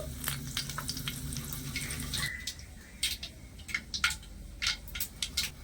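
Arhar and urad lentils, whole cumin, mustard seeds and dried red chillies crackle and sizzle in hot oil in a pan, a steady close frying hiss at first that thins into scattered pops and spits.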